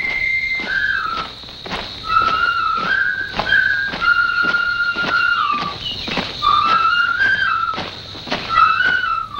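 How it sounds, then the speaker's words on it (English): A person whistles a happy tune alone, clear sustained melodic notes rising and falling in phrases, punctuated by regular sharp clicks or taps in a close, quiet setting. "you whistle a happy tune"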